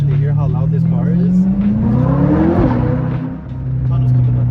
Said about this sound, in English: Just do one more pull under a tunnel so you guys can actually hear how loud this car is.